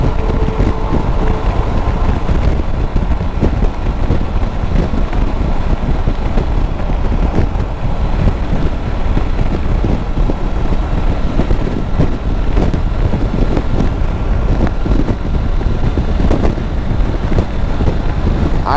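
Wind buffets the microphone steadily and loudly throughout a long-distance motorcycle ride from Toronto to Moncton, a dense roaring rush with no talk over it.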